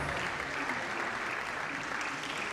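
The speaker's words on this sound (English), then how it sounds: "Please sustain the applause." An audience at a college lecture ceremony claps continuously, a thick, even wash of applause from a large crowd that holds steady without pause.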